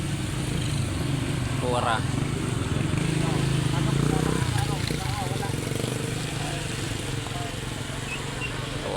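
Motorcycles, among them a Ducati, run along a road near a collapsed bridge in Roxas, Zamboanga del Norte, with a steady engine drone and one rising pass close by, under continuous talk.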